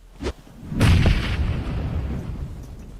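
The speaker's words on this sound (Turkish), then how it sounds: "Bomba attı ya." A thrown bomb going off in a video game: a brief pop, then a deep booming explosion with a rumbling decay lasting a couple of seconds, no talking.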